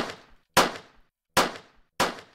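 Gunshot sound effect panned in the Stride game engine, four sharp reports at irregular intervals, each a crisp crack followed by a quick decaying tail, with the first one softer.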